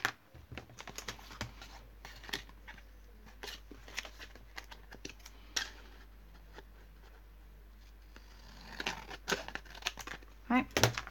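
Scissors or a craft cutter slicing through card for a Christmas vintage wall hanging, close-up crisp snips and crinkling rustles in irregular bursts, with a faint low hum underneath.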